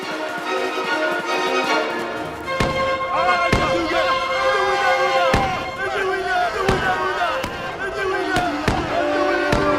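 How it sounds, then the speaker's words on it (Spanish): Gunshots in a Robinson Crusoe audio drama: around seven sharp, loud cracks at irregular intervals, cutting through a busy bed of shouting voices and sustained tonal sound. "Los derribaron a balazos."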